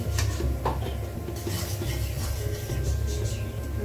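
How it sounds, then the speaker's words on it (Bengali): Ground spices (coriander, chili, turmeric) cooking with fried onion in a pan for hilsa fish curry, giving a steady close clatter and scraping of utensil against pot over a low background hiss. "তো আমি দিয়ে দিয়েছি মশলাগুলো, মশলাটা কষানো হোক।"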